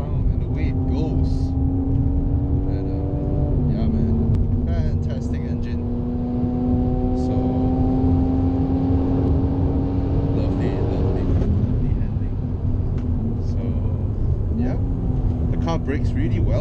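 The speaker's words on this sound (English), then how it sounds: "And I always love how AMGs sound." A Mercedes-AMG four-wheel-drive car on performance tyres drives along with a steady, droning engine note heard from inside, its pitch stepping down with gear changes, while voices talk now and then.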